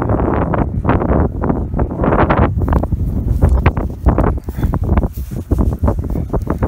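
Loud wind buffets the microphone in gusty bursts, rumbling and roaring close up with no clear speech.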